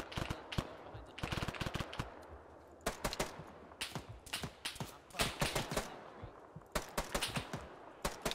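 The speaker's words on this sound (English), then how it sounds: "that's a PKM" Bursts of PKM machine gun fire in the Arma 3 video game, rapid rattling volleys repeating in short strings across the whole stretch, loud and close with gaps between bursts.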